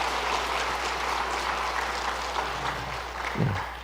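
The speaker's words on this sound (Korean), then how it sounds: "박수하시죠." A church congregation applauds a returning short-term mission team during Sunday worship: a dense, steady round of clapping from a large crowd, fairly loud and sustained throughout, with a low hum beneath.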